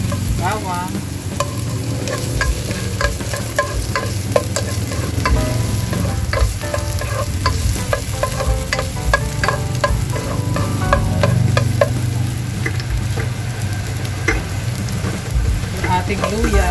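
Garlic frying in a pan for Filipino chicken soup with tomatoes, a steady close sizzle running throughout with scattered crackles and occasional stirring clatter.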